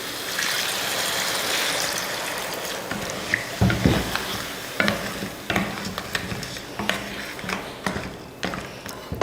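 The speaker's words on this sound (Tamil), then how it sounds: "இப்போ தண்ணி சேர்த்துக்கலாம்" Water poured into crab masala cooking in a pan: a soft trickle over a low sizzle, then a run of sharp clinks and stirring scrapes up close.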